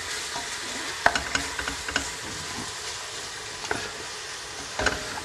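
Onions stir-fried in a pot for Moroccan harira soup, a steady close sizzle punctuated by spoon scrapes and taps against the pot, with no talking.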